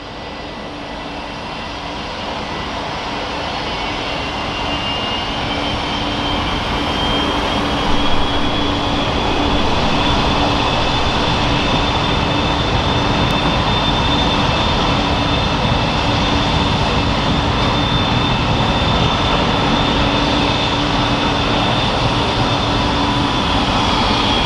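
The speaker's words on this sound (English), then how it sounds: "We're currently watching an Alliance Airlines Fokker 100." Alliance Airlines Fokker 100 jet engines at Brisbane Airport, a sustained loud roar with a rising high whine, growing over the first several seconds and then holding steady, heard at a distance with no talk.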